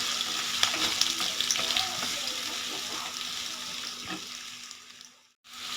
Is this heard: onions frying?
yes